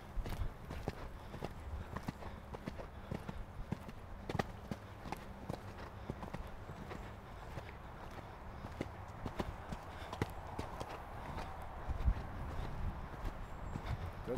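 A horse in a training session walks with steady, rhythmic hoofbeats clip-clopping close by, joined by faint voices in the background.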